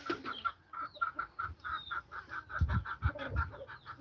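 Several chickens clucking on a small farm where about twenty birds are being raised, a steady run of short repeated clucks with a few louder low thumps and scuffles nearby, no talking.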